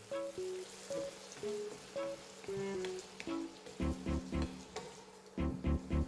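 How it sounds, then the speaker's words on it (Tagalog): Chicken breast adobo with potatoes sizzles in a pan while being stirred, soft frying hiss punctuated by repeated scraping and clinking strokes of the spoon, fairly quiet and close. "Hahaluin ko na ho siya ngayon. Kasama na yung patatas."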